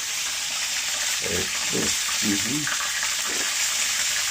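Food frying in a pan gives a steady, loud sizzling hiss throughout, while a voice speaks briefly over it partway through.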